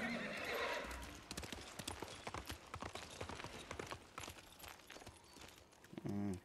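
Rhythmic hoofbeats clip-clop steadily at a moderate pace in the video game Ghost of Tsushima on PS5, with a horse's whinny breaking out near the end.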